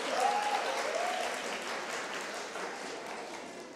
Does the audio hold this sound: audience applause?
yes